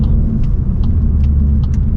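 A Volkswagen Golf R Mk8 drives steadily along a UK road with a deep, continuous engine and road rumble, heard close from inside or near the vehicle, with no voices.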